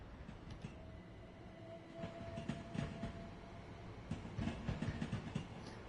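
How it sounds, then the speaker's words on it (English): A train in Train Sim World 4 passes close by with a continuous rumbling roll, rhythmic clickety-clack of wheels over rail joints and a faint whine, steady and moderately loud throughout. "That's our train."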